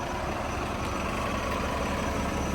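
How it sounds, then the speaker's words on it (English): A Winnipeg Transit bus engine runs close by with a continuous low, heavy rumble and a broadband roar that stays steady throughout. "I hear it. There's the motor."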